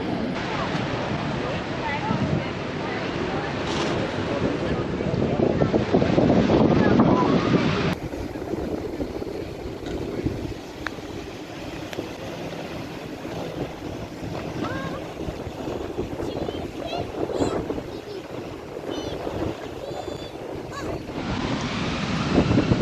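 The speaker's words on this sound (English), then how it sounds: "Windy." Wind gusts buffet the microphone beside the river near Tower Bridge in London, with a steady roar of moving air and water that surges louder and eases off over the whole stretch.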